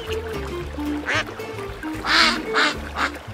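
A colorful cartoon duckling quacks in short bursts, several bright quacks spaced over a few seconds, sitting above a low musical bed.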